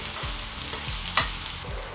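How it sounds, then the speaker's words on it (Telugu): Sliced onion pieces frying in cooking oil in a pan, soft continuous sizzle with rhythmic stirring scrapes of a spoon, close and fairly quiet, no talking. "ఆనియన్ ముక్కల్ని మనం ఫ్రై చేసుకోవాలి ఆయిల్లో"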